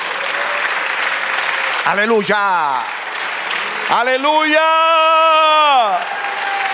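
A church congregation claps steadily in a dense, continuous patter, while voices sing and chant loudly over the applause, with rising sung tones.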